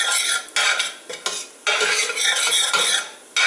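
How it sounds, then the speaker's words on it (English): Vegetables sweating in a little extra virgin olive oil in a pan, a broadband crackling sizzle with stirring scrapes, loud and close, in bursts broken by short gaps. "now as you guys can see, the vegetables are sweating in my pan"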